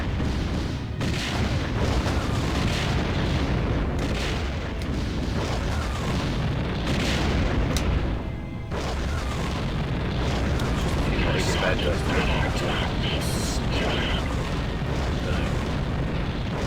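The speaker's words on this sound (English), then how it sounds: "It's kind of doing lots of exploding stuff" Space combat in the game Wing Commander Prophecy, with continuous loud booming explosions and bursts of weapon fire layered densely throughout, the dense roar dipping briefly midway, while someone talks over the action.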